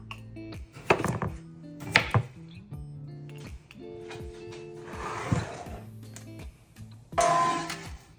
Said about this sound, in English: So I'm just going to cut some new potatoes to shape.